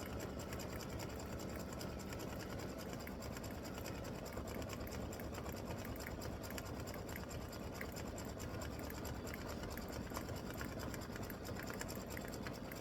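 A machine embroidery unit satin-stitching an appliqué Valentine bear design runs with a continuous, even mechanical whir and rapid needle patter, steady and fairly quiet throughout, with no voices.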